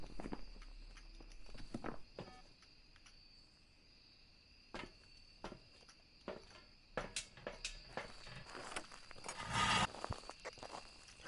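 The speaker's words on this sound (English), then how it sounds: "Heard those footsteps clear as day." Ghost footsteps in the horror game Phasmophobia, a series of sharp, distinct thuds spaced irregularly against a quiet background with a faint steady hum, growing denser and louder toward the end.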